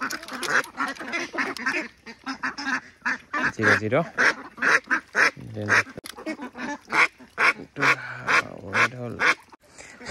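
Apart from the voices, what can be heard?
duck quacking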